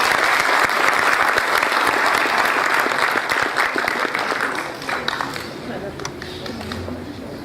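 Sustained audience applause at an official Brazilian heraldry and humanities award ceremony, dense and steady clapping that slowly thins toward the end, with faint voices underneath.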